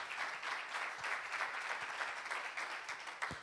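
Church congregation applauding during a French worship service, a fairly faint, steady patter of many hands clapping with a few sharper individual claps standing out, lasting a few seconds.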